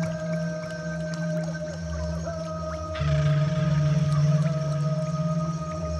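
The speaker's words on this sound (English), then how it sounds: "the last part is the tribal ambience. So as I said already, I made montages from different tribes all over the world" Layered tribal ambience montage built from recordings of different tribes for an organic shamanic house production template, sustained tonal drones and calls that thicken noticeably halfway through, loud and continuous with no talking.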